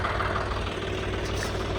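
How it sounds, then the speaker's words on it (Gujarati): A John Deere 5210 tractor engine idles steadily close by, a continuous low rumble with a faint rhythmic throb and no voices. "આ છે આપણું ટ્રેક્ટર જોન ડીયરનું 5210 આપણું ટ્રેક્ટર છે"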